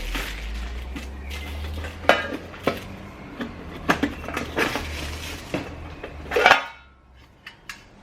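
Thin metal pieces of a camping mess kit clank, rattle and scrape as they come out of a box, with a run of irregular clatters and a louder jangle near the end before it goes quiet.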